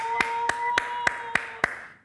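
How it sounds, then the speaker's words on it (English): Six sharp claps at a steady, even pace over a constant humming tone, with no voices. "Please, people clap now."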